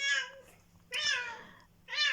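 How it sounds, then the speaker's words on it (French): A domestic cat meows three times in a row, each call clear and close with pauses between, against a quiet background. "On a ma petite Mina qui fait que de miauler"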